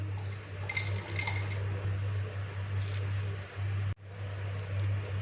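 Walnuts and peanuts drop into a kitchen chopper bowl, a few quick hard clattering taps over a steady low hum, with a sharp knock near the end.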